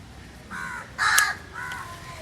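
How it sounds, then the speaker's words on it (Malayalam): A crow caws three times, the middle call loudest and harshest, each a short rasping note standing clearly above a quiet background. "കാക്കച്ചേൻ്റെ ഒരു സൗണ്ട് ഉണ്ട്."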